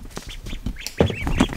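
Ducks at a small farm quack in short, close bursts, with several nasal calls overlapping near the end.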